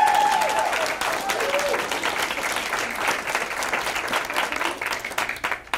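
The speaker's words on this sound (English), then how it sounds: "Can we give them one more big round of applause?" Steady applause from a crowd at a fourth-grade class presentation, many hands clapping together and slowly tapering off toward the end.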